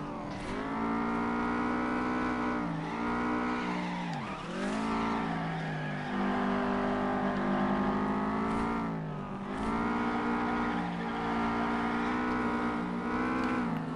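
A race car engine in the FlatOut video game drones at high revs throughout, with pitch dips and surges as it shifts and accelerates, loud and continuous with no talk over it.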